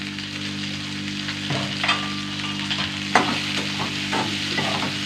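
A curry sautés in a pan with a steady sizzle and occasional spatula scrapes and knocks as it is stirred, over a constant low electrical hum.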